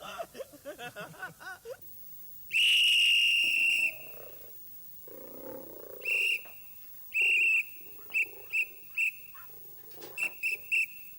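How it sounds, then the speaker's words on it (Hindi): People signal to each other with sharp, piercing whistles, some long and held, others in quick short bursts, separated by quiet gaps, with low murmuring voices at the start. "तो अपन सीटी मार के एक दूसरे से बात करेंगे।"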